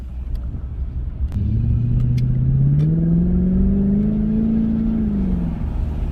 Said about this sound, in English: So we're going 20 miles an hour, second gear right now. So we have a slight acceleration.